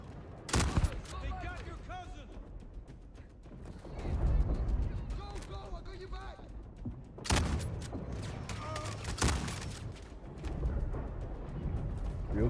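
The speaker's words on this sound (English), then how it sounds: "Real careful with the Gatling." A Gatling gun firing in a video game, heard as loud, rapid bursts of gunfire at the start and again about two-thirds of the way through, with chatter and softer game sounds filling the gaps.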